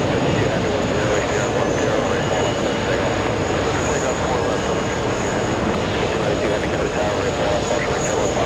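An Aer Lingus jet leaving JFK for Dublin produces a constant, loud engine roar with a high whine, steady from start to finish, with voices faintly under it.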